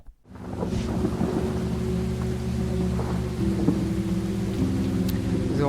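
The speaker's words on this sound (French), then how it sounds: "la forte pluie est tombée, ce qui nous a retardé un peu" Heavy rain pours steadily in a video game scene, with deep rolling thunder rumbling continuously underneath and a few brighter cracks rising out of the downpour, loud and close.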